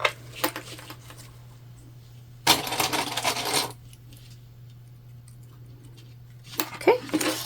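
Metal sewing clips snap onto tote bag fabric, giving sharp, close clicks and rustles in a few short bursts with quiet stretches between, over a low steady hum.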